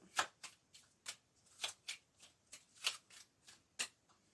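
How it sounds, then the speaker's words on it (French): Oracle cards being shuffled and drawn, a series of about a dozen quick, crisp card riffles and snaps in an uneven rhythm, close and fairly quiet with no speech. "Une carte d'un archange, l'oracle d'Anthony Martin. On va prendre 5 cartes."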